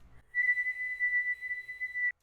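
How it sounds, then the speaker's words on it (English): A person whistles one long, steady, clear note that holds for nearly two seconds before cutting off, close and alone with no other sound. "Here's what my whistle sounded like."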